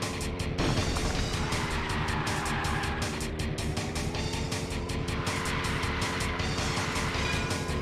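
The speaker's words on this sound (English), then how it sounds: "you are just sliding all over the place, America car" In the video game Blast Corps, a car engine drones steadily as the vehicle slides around, with repeated sharp thuds and crunches of impacts cutting through the noise.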